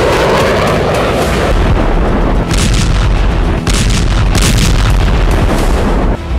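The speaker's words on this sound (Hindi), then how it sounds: "की मिसाइलों से ताबड़तोड़ विस्फोट शुरू हो गया।" Missile strikes and explosions in the Russia-Ukraine war, a series of heavy booms and blasts that rumble loudly one after another, dense and continuous, with no talk.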